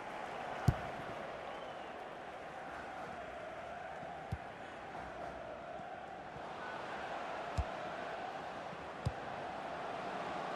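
A large stadium crowd in the FIFA 18 video game, Ecuador vs Mexico, roars and applauds in a steady, continuous wash of noise, with a few sharp thuds standing out above it.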